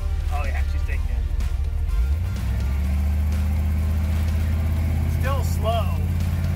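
A Ford F100 truck engine settles into a steady low idle after coming to a stop, a continuous close rumble throughout, with someone talking over it in places.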